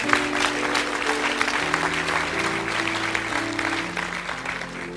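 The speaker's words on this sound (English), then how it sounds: "Yes, you need to clap on that." A church congregation at a sermon on marriage applauds, steady clapping throughout at moderate level while sustained organ or keyboard chords play underneath.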